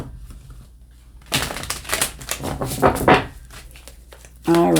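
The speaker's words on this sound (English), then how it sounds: "let's see what's coming through from the Tarot of Dreams for the week. Let's give it a bit of a shuffle." A deck of Tarot of Dreams cards being shuffled up close, a run of crisp riffling, slapping and papery flutters that starts abruptly after a quiet stretch, with a voice beginning at the end.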